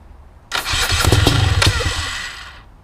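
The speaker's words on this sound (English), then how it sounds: "We'll do some kickstart stuff here." A BRC 500 motorcycle kickstarts and its engine catches, roaring up loud and close with a few sharp firing pulses before settling and fading slightly toward the end.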